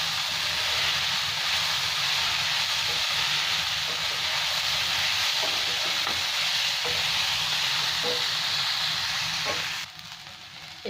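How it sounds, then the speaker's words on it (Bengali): Sabudana poha fries in a pan with a loud, steady sizzle and hiss, while a spoon stirs it with soft scraping taps at intervals. The sizzle drops abruptly quieter near the end. "এতে আর 2-3 মিনিট এরকম করে ভেজে নেব।"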